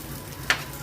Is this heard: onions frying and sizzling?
yes